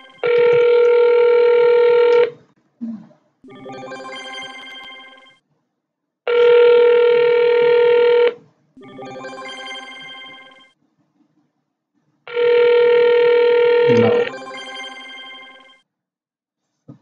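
Telephone ring tone heard after dialing an Asterisk PBX extension: three long loud ringback bursts about two seconds each, evenly spaced, each followed by a quieter tonal playback sound, with no talking.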